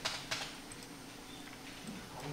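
Keys tapped on a computer keyboard for copy and paste shortcuts during servo positioning module setup, a few quiet scattered clicks with a couple of sharper taps near the start, close and faint over room hiss.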